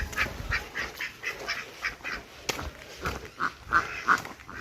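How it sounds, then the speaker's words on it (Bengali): Domestic ducks in a green Bangladeshi village quack in a string of short, repeated calls, moderately close, over faint outdoor background noise. "পাতি হাঁস"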